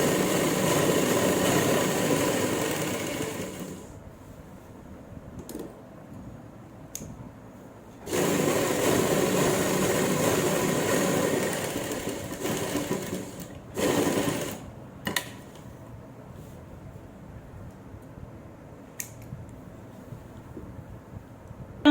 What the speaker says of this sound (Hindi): दूसरी साइड में भी हम इस तरह से सिलाई लगा लेंगे